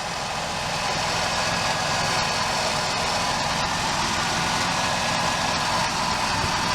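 A Dodge Caravan engine idles steadily after an engine flush and oil pan gasket replacement, a continuous close rumble with no pauses and no talking.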